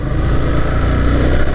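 A car engine runs steadily on a winding ghat road near Ooty as the car reverses to make a U-turn, a continuous close mid-pitched hum and rumble with no talk.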